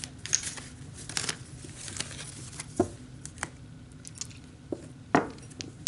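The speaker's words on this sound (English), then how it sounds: "Okay, so I'm going to pull some energy cards." Tarot energy cards being shuffled and pulled by hand, with soft rustles, papery flicks and occasional sharper snaps at irregular intervals, close and fairly quiet.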